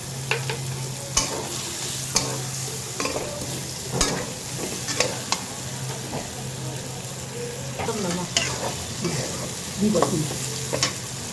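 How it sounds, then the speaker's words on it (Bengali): Hilsa fish heads fry in a pan while a spatula stirs them, with repeated sharp scrapes and knocks at an uneven pace over a constant close sizzle and a low steady hum. "মাছগুলা কষানো হয়ে গেছে।"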